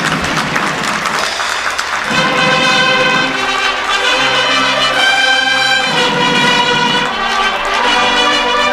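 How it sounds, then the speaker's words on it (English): Audience applause at the National Defence University graduation ceremony in Kenya, sustained clapping mixed with a band's tonal music playing loudly throughout. "Let us give them a round of applause."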